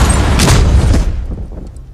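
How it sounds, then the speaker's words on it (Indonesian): A suicide bomb explodes in a crowd in the 2024 film Civil War, a loud close blast with a heavy rumbling boom that fades over about two seconds. "begitu si wanita masuk ke kerumunan, ia langsung meledak"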